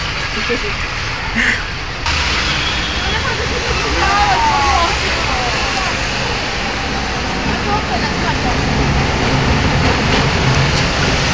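Heavy rain pours down on a Sarajevo street in a steady, dense roar, like rushing water. It stays loud and continuous throughout, with faint voices in the background.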